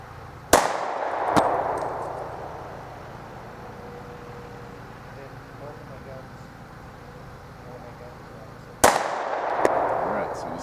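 Two sharp, loud gunshots from a semi-automatic firearm, roughly eight seconds apart, each followed by a ringing tail, with a quiet outdoor range between them.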